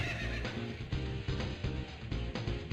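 A horse-like demon whinnies in the video game SMT Nocturne, a drawn-out neigh set against busy, steady game music and effects.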